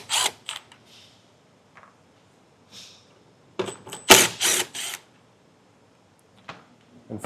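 A plastic interior trim panel on a 2022 Chevrolet Equinox is worked loose from its retaining clips, making a few sharp, close snaps and clicks separated by quiet gaps.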